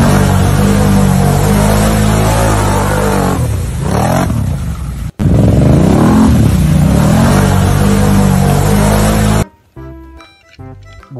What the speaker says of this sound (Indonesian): ATV berwarna oranye.